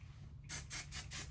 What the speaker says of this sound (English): I just use a little bit of my wig wax spray to just kind of pull that back